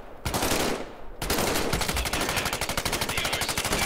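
Gunfire from a weapon in Medal of Honor: Above & Beyond VR: a short burst, a brief pause, then a long rapid automatic stream of sharp, loud shots.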